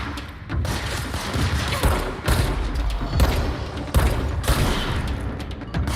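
Gunfire in the video game Control comes as dense, continuous loud bursts and booms, with sharp impacts standing out at intervals over heavy rumbling action.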